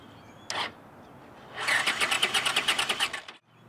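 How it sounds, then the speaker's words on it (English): A 1983 Honda Silverwing motorcycle cranking over on a fully charged lead acid battery: a brief click, then a second and a half of rhythmic starter churning at close range before it stops without firing. "this is what it sounds like to crank it over"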